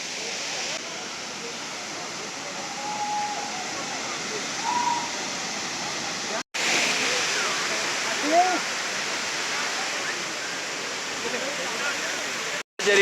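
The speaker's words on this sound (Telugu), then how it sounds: "జరీ వాటర్ ఫాల్స్ దగ్గరికి వచ్చిందాం." Steady broadband rush of Jari Falls in Karnataka, a small waterfall with modest flow, filling the scene with continuous close water noise and a couple of brief cutouts, while faint voices sit beneath the roar.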